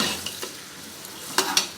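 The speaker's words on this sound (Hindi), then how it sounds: "इनको आपने चेक करते रहना है, ब्राउन डार्क ब्राउन नहीं करना, हमने गोल्डन फ्राई करना है।" Mutton qorma ingredients frying golden in a pan, a soft steady sizzle with a few light stirring scrapes and clinks of a utensil against the pan.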